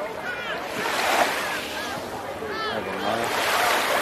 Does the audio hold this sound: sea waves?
yes